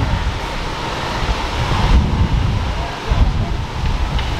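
Wind buffets the microphone in a town square in Provence, a loud continuous rumbling roar with gusty swells.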